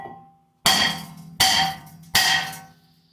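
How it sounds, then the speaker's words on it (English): A big hammer strikes a car's brake rotor three times at a steady pace, each blow a loud, ringing metallic clang that fades before the next, with no talking. "you basically just need a big hammer"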